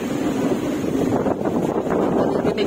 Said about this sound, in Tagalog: Naririnig niyo yung tunog ng hangin.